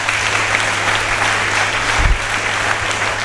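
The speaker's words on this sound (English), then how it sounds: "Give him a very big hand of applause." An audience in Liberia applauds to welcome Director John Cully at an LMDI multiplier program event. It is loud, dense, continuous clapping with a low hum underneath and a brief thump midway through.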